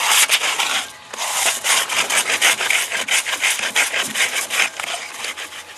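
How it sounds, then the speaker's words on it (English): Rusted cast iron pan scrubbed hard with balled-up foil, a continuous gritty rasping in quick back-and-forth strokes, close and loud with no talk. "The idea is to get the whole pan outside and inside totally scrubbed"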